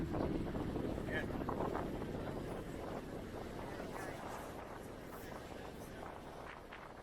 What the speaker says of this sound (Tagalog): Mahangin sa taas.